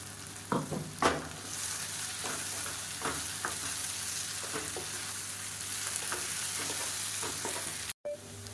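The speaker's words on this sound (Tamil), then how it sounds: "இப்போ நம்ம பொடிச்சு வச்சுருக்க அந்த பொடியை சேர்த்துக்கலாம் சேர்த்துட்டு நல்லா வறுத்துக்கலாம்" Raw plantain slices tossed with ground spice powder roast in a pan, a soft continuous sizzle broken by a few scraping stirs and clinks, close and fairly quiet with no talking.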